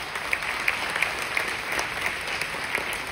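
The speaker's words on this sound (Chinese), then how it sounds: "给他一个掌声来" A seated audience at a company gathering in a multipurpose hall claps for Dr. Evan Ang, a steady wash of applause with a few sharper individual claps standing out, even and sustained throughout.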